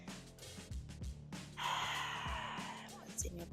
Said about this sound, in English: Option for a little fire breath here.